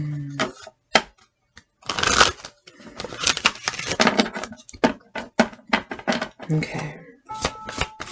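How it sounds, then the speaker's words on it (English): Rapid bursts of crisp tarot card shuffling, riffles and taps coming in clusters close by, with a brief spoken word near the start. "getting straight to the shuffle"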